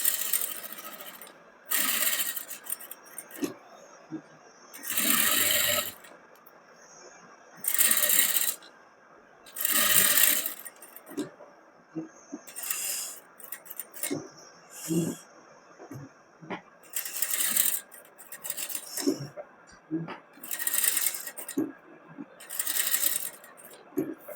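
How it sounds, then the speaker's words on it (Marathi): Sewing machine stitching a Paithani blouse back-neck design, running in repeated short bursts of fast mechanical whirring separated by brief pauses, close and fairly loud. "आता ह्या ठिकाणी एका दाबावरती आपण शिलाई देणार आहोत"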